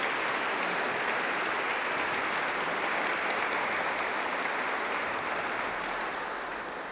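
Sustained, dense applause from an audience welcoming filmmakers Arturo Ripstein and Paz Alicia Garciadiego, a steady wash of many hands clapping that tapers slightly at the end.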